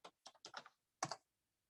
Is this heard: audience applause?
no